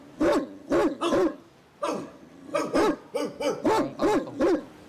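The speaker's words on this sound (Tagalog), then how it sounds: "May aso, may aso." A dog barks repeatedly in loud, close bursts, several quick barks, a brief pause, then another run of barks with no talking.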